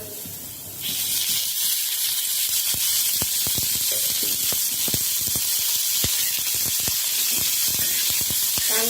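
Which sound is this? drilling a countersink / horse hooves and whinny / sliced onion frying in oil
sliced onion frying in oil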